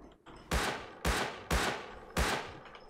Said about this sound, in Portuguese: Ó o cara atirando em mim